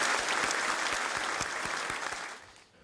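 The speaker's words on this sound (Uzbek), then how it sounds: "Olqishlar bilan." An indoor audience at a game show breaks into dense, steady applause that fades out over the last half second.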